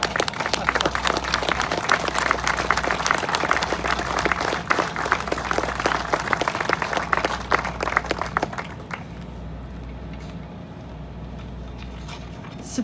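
Audience clapping at an outdoor event, a dense, steady patter of many hands that continues strongly for about nine seconds before cutting off into quieter background ambience.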